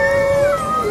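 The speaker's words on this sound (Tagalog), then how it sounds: "Nagmaalulong yung mga mga wolf." Wolves howling at a zoo, a single long, steady howl close by that dips in pitch partway through, clear and prominent with no talk.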